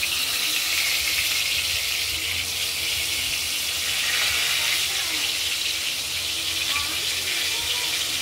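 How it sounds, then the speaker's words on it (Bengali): Pieces of pointed gourd fry in hot oil with a continuous, even sizzle that holds close and steady throughout, with no talking over it. "হালকা বাদামি করে ভেজে নেব।"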